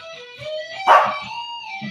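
A dog barks once sharply, with high whiny yelps and whimpers before and after, fairly close and otherwise quiet.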